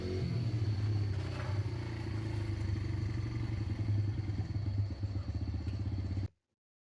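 A motorcycle engine idles with a rapid, throbbing low rumble and mechanical clatter, close by, then cuts off abruptly into silence.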